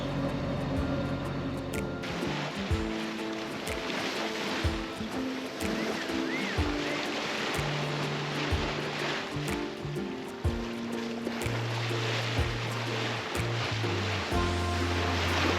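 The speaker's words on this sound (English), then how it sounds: "We just turned on the engine because there is no wind out here, and there's basically no waves right now." A sailboat motors under engine power across a calm, windless Atlantic, with a steady low engine hum and shifting tones over continuous water swish and hull wash.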